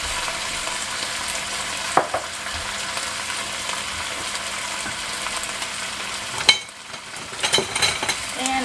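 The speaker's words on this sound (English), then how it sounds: "And I'm just going to give this a mix." Vegetables for a cranberry pot roast stirred in a pot, a continuous sizzle with a spoon scraping and knocking against the pot in a couple of sharp clunks toward the end.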